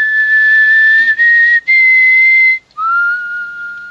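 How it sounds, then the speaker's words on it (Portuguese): A single person whistles the Esperanto melody signal, clear and close, in short high sustained tones with brief breaks between phrases, alone with no talk. "Por que não voltamos a assobiar essa melodia por aqui?"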